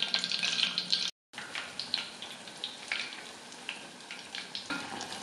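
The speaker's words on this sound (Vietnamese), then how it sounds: "Con tôm nhỏ chút xíu bây giờ mình chiên là nó phồng quá chừng luôn." Battered shrimp sizzle and crackle as they fry in hot oil. The bubbling is close and continuous, with sharp pops throughout and no talking.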